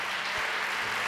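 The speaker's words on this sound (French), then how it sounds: "On voudrait leur donner une bonne main d'applaudissements." Brief burst of crowd applause at an awards gala honoring prize winners, dense steady clapping filling the room with no voices over it.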